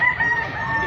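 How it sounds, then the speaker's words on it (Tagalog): Up close, a rooster crows in one loud, sustained, slightly wavering call that fills the brief moment, with no speech over it. "magagandang manok dito."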